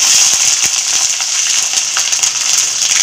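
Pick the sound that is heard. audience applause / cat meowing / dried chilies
dried chilies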